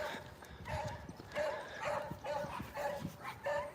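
Puppies bark several times in short, yappy bursts out on a Sunday walk, a little way off and fairly faint against the outdoor background.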